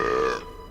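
A loud, drawn-out burp in a Hindi-dubbed animated dragon film, starting strong and rough, then trailing off into a quieter, fading rumble within a second.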